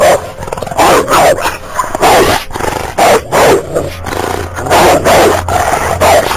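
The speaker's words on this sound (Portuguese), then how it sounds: "Latindo forte, alto." A large dog barks loudly and repeatedly in bursts, close by, with short pauses between volleys of deep barking.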